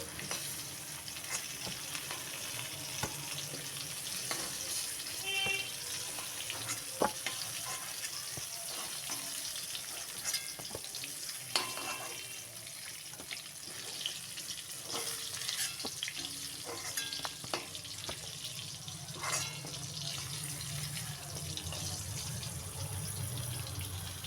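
Pointed gourd frying in oil in a wok, a steady close hiss of sizzling with scattered crackles and occasional stirring clinks throughout, no voices.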